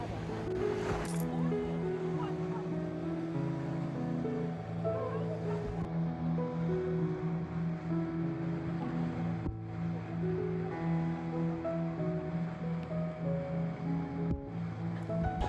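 Sea waves wash and churn around a small boat on a morning ride off Goa, a continuous rushing wash under a steady engine hum, with a voice heard now and then.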